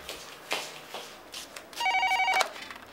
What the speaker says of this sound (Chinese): 电话啦。